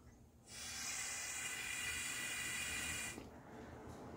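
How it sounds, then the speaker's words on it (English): Air hissing steadily through a stuck-open EVAP purge solenoid valve on a car, a continuous breathy rush of about two and a half seconds that starts and stops abruptly, with quiet before and after. "I can blow air right through here."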